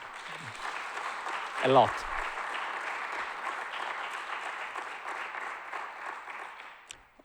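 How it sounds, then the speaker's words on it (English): Audience applause at an academic society meeting, a steady bed of clapping lasting several seconds and slowly fading, with a speaker's voice briefly heard over the start. "I would like to ask you an applause for her"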